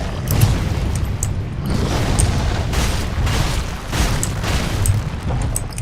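Deep booming blasts from bombs in Dark Souls 3 roll over a constant loud rumble, with several heavy impacts recurring every second or so across the stretch.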